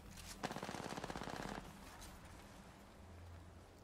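Rapid automatic gunfire with heavy recoil rattles out in a quick burst in an arena video game, then cuts off, leaving a quiet hum.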